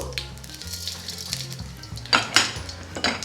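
Cumin and urad dal are dropped into hot oil for carrot rice, and a soft sizzle hisses under clinking pan and utensil knocks, with two louder clatters near the end.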